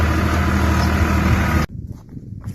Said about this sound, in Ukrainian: Трохи трактор гріється, бо тут уже не орано